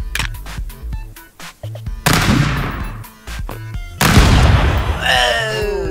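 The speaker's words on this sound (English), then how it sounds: "Artillery!" Artillery explosions in the game Stick Fight: The Game, loud booming blasts with rumbling noise bursts, mixed with rapid gunfire clicks and voices talking over the action.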